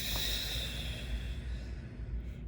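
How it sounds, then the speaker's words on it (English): A forceful breath blown out during a belly-breathing exercise, a long close airy exhale with a hissing, windy texture that fades at the end. "And now blow it out."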